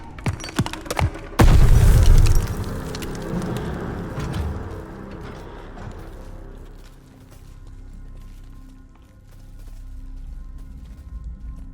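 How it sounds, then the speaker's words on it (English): Grenade explosion in Call of Duty: Vanguard during the Operation Tonga campaign mission, a few sharp shots then one loud, close blast that rumbles and slowly fades into low ambience. "Grenade! Get down!"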